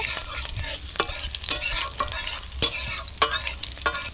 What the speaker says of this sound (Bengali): এবার দিয়ে দেবো কোচানো কাঁচা লঙ্কা একটু ফোড়নটা ভেজে নেব